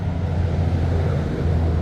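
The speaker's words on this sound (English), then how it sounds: "Sorry about the highway noise." Steady, low highway traffic noise rumbles throughout without a break, a broad droning hum like passing vehicles at a distance.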